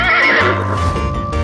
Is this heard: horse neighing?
yes